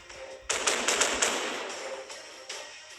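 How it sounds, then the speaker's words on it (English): Main battery guns of a warship fire in a naval combat video game, a rapid cluster of loud booming blasts starting partway through and trailing off with a few more shots, no talking. "I'm going for the main guns. Yes, that's the main guns."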